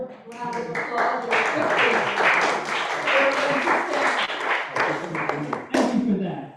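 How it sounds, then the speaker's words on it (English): Congregation applauding during a Unitarian church service on Staten Island, steady clapping that swells and holds for several seconds, with people talking over it throughout. "Let's do a round of applause."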